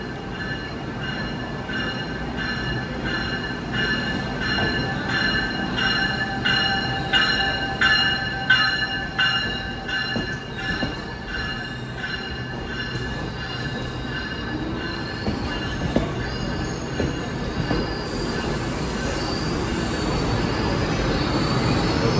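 A GO commuter train rolls into Toronto Union Station at rush hour with a low rumble, high metallic wheel squeals ringing over it, and the noise swells as it draws close.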